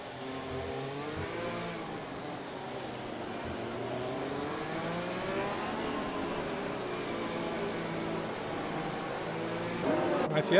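Race car engines hum and drone steadily behind a Mercedes AMG safety car leading the pack in a Vietnam race of a racing video game, with a steady wavering tone and a brief louder rise at the end.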